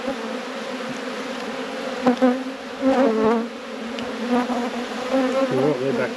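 Honey bees swarm and buzz around an opened hive during a robbing event, a dense, steady drone with wavering higher-pitched whines from individual bees passing close, continuous throughout.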